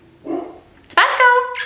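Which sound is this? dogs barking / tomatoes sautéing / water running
dogs barking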